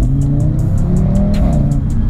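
Audi RS3 car accelerating hard, a loud, steady engine roar with a low rumble rising in pitch over about two seconds, heard close and continuous with no talk.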